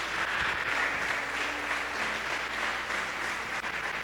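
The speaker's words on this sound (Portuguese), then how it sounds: "Vamos aplaudir a Deus pela vida do céu" A church congregation applauding at a faith gathering, a dense steady wash of clapping throughout, fairly distant and even, with no speech over it.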